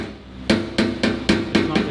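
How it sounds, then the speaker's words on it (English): A hammer taps a metal body panel on a custom car build in six quick, fairly loud ringing strikes in a steady rhythm, with no voices. "now you're going to use this part of the hammer"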